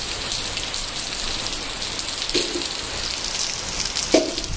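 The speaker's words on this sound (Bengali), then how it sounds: "এখন বৃষ্টিটা একটু কমলো আর আবারও যাচ্ছি" Steady rain pours during a storm in a riverside village, a dense continuous hiss of drops striking surfaces with a couple of brief louder splats, and no voices.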